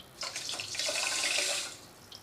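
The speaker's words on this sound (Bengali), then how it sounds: "এই 2 কাপ চিনির মধ্যে আমি 4 কাপ জল দেব" Water pours steadily into a pot of sugar for rasgulla syrup, a bright splashing stream lasting about a second and a half before tapering off, close and alone.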